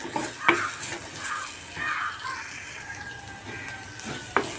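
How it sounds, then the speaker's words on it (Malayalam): Ingredients for a fish curry are sautéed in a pan, giving a soft continuous sizzle with intermittent scraping stirs and light metallic clinks, fairly quiet and without speech. "നന്നായി വഴറ്റിയെടുക്കേണ്ട ആവശ്യമൊന്നുമില്ല ഇത്ര വഴറ്റിയെടുത്താൽ മതി"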